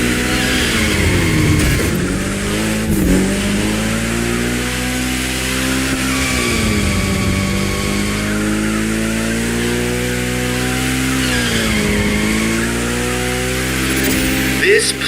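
A car engine revs and drones while drifting in The Crew Motorfest racing game, rising and falling in pitch in repeated sweeping surges with a constant loud tone throughout.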